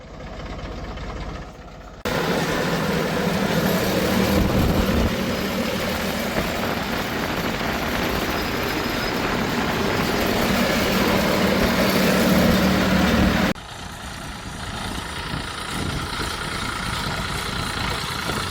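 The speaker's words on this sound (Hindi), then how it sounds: "ट्रैक्टर हमारा ये निकल चुका है।" A farm tractor heads out to sow mung beans, its diesel engine chugging steadily up close for a long stretch, with a quieter engine rumble before and after.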